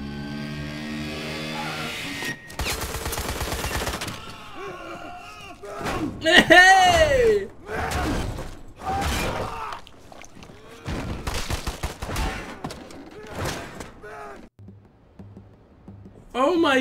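Gunfire from the video game Wolfenstein: The New Order crackles in loud bursts mixed with shouting, dense battle noise and voices talking excitedly over the action.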